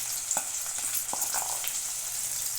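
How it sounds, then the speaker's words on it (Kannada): Gram flour frying in oil with onions for a buttermilk sambar makes a steady close hiss, with a few light scrapes and clicks of a spoon and no voices. "ಎಣ್ಣೆಯಲ್ಲಿ ಸ್ವಲ್ಪ ಕಡಲೆ ಹಿಟ್ಟನ್ನು ಫ್ರೈ ಮಾಡೋಣ"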